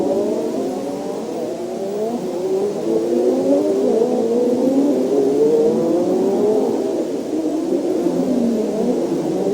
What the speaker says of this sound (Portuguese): os outros carros estão passando ali